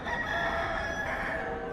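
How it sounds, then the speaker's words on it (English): A mechanical rooster automaton on a large old geared clock gives a short crowing call, fairly faint and alone over a soft background hum. "And then a rooster pops out for good measure."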